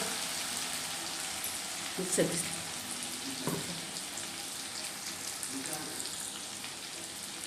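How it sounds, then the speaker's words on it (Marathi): Chili and pounded dried bombil (Bombay duck) chutney sizzles steadily in a hot pan, a close, continuous frying hiss with a couple of brief stirring scrapes. "अशा प्रकारे आपली चटणी तळती"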